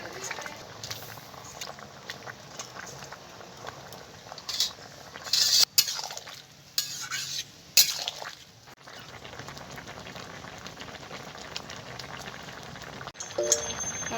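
Cut eggplant pieces go into a hot pan with bhola fish, chui jhal and turmeric and are stirred, giving a steady wet sizzle with louder bursts of splashing and scraping partway through.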